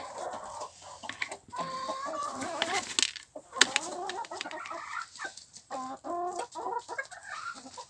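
Broody hen clucking in a farmyard after a dust bath, a run of close, repeated clucks and short calls with some rooster-like crowing mixed in.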